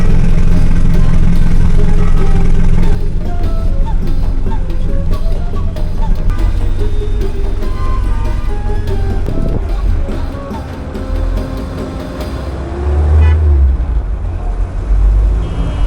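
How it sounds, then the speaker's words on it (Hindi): A Toyota Land Cruiser FJ40 4x4 drives a mountain road between Murree and Naran while overtaking a jeep, its engine and road rumble loud and steady inside the cabin, with a brief low thump near the end. "मैंने अभी इंतज़ार करके गाड़ी जीप के पीछे ओवरटेक की"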